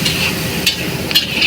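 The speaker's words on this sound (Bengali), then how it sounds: "লঙ্কা পেঁয়াজ দিয়ে কিছুক্ষণ ভাজছে" Green chilies and onions fry with salt in a hotel kitchen pan, giving a loud, close sizzle broken by quick scraping stirs of a spatula.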